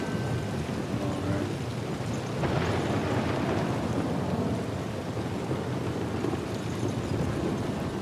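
Steady heavy rain pours down outdoors, a dense, loud wash of drops with a low thunder rumble swelling partway through, continuing without voices.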